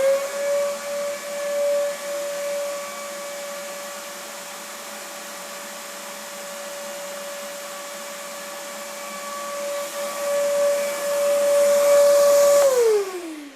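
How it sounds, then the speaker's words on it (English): A workshop shop vac used for chip collection runs with a constant droning whine and a steady tone for about thirteen seconds, then the pitch slides down as the motor winds off at the end. "So let's try the shop vac first."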